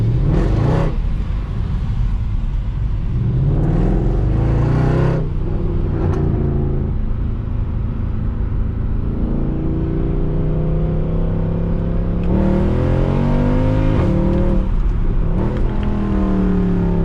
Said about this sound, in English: So I'll hit it off the line here when we make a left here, and let's see if it can grab traction.